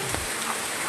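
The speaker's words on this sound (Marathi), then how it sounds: "सतत चालूच आहे आज पाऊस" Steady rain pours down in the Konkan countryside, a dense, even hiss of drops on surfaces, close and continuous with no voices over it.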